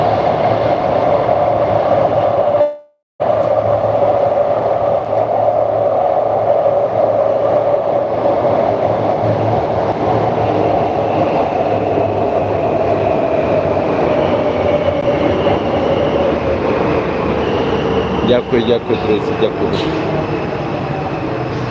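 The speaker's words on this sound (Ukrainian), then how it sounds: "От бачите, вже їде метро." A Warsaw metro train arrives at a station at night, a long loud rumbling roar with rising squeal and clatter of wheels, while someone speaks briefly over it near the start.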